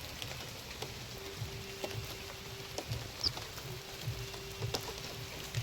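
Light monsoon drizzle falls on a village riverbank, a faint, steady patter with scattered soft drips and no voices.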